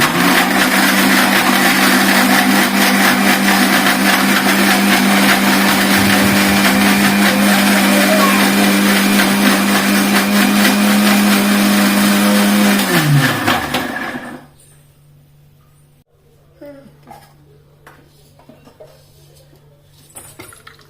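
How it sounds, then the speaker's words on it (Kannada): A mixer grinder whirs loudly and steadily while grinding fresh coconut with a little water, then winds down and stops near the end, leaving quiet room sound with faint clinks. "ಸೊ ನೀರ್ ಹಾಕಿ ನಾನು ಈಗ ಇದನ್ನ ಗ್ರೈಂಡ್ ಮಾಡ್ಕೊತೀನಿ"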